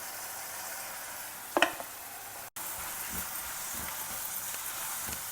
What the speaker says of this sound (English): So let the vegetables also get well fried along with the homemade sambar masala